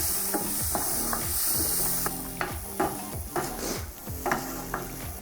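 Spiced Moroccan-style chickpeas frying in a pan, a constant hiss of sizzling oil overlaid with rhythmic scraping and knocking from a spoon or spatula stirring the pan, close and fairly loud with no talking.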